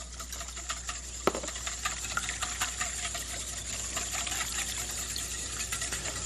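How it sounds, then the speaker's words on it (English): Milk and orange juice poured into a pot in a kitchen, a soft steady trickling and splashing stream, close, with a few faint clinks. "So in this pot right here, I'm going to add, watch this, milk, orange juice"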